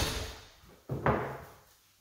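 A door swings shut with a sharp knock followed by a brief rattle and fading thud, alone in a quiet room.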